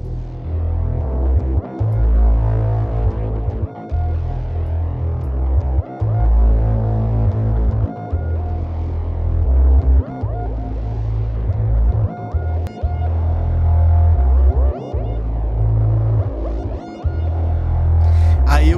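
Audio treated with the Waves Berzerk plugin for an atmospheric echo effect, a heavy throbbing low hum with repeating echoed tones, loud and steady with brief dropouts.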